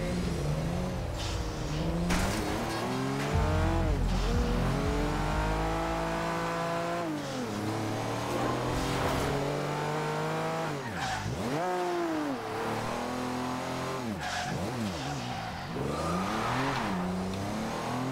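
Fastest car from the Top Gear car pack in Forza Horizon 2, driven on a highway in the rain: a continuous loud engine drone that rises and falls through repeated gear shifts and revs, with no talking.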